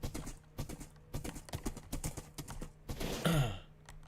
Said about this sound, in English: A jumping speed demon horse.